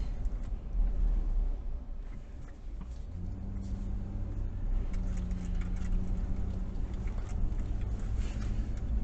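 Car interior while driving out of a church parking lot onto a main street, a low steady engine rumble and road noise with a humming engine tone rising partway through, no talk.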